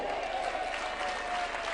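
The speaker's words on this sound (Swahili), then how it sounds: "Pigeni makofi." An audience at a Kenyan political party council meeting gives a brief burst of dense, steady clapping with a murmur of crowd noise.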